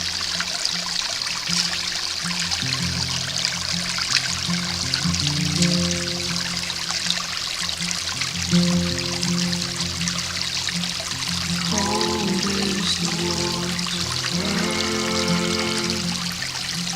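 A creek flows and trickles steadily on private land in gold country, a dense, constant wash of water with pouring, dribbling detail. Low tonal hums and some brief rhythmic patterns come and go underneath it.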